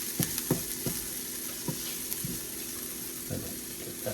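Shallots frying in a pan, giving a steady close sizzle with occasional sharper pops and taps of a utensil scattered through it, no voices.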